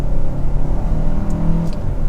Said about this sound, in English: So we'll do another acceleration real quick as we feel out the car